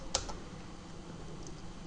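Ctrl C shortcut pressed on a computer keyboard while copying objects in the CryEngine 2 editor, a single quiet key click near the start above a faint steady background hiss.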